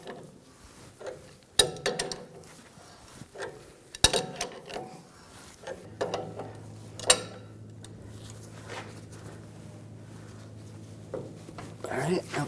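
A press tool is cranked down to push a front lower control arm bushing into a 2011-2018 Ram 1500 3.6L V6 arm, giving sharp metallic clanks, ratcheting clicks and a low grinding creak as it tightens, with a voice talking in between.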